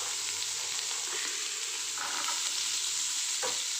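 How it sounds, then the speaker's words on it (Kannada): Chopped onion and garlic fry in hot oil for a sheep head and trotters curry, giving a steady, close sizzle with light stirring scrapes and no talk. "ಇವಾಗ ನಾವು ತೊಗೊಂಡಿದ್ವಲ್ಲ ಈರುಳ್ಳಿ, ಅದು ಮತ್ತು ಬೆಳ್ಳುಳ್ಳಿ ಎರಡನ್ನೂ ಹಾಕ್ಕೊಂಡು ಚೆನ್ನಾಗಿ ಫ್ರೈ ಮಾಡ್ಕೊಳ್ಬೇಕು."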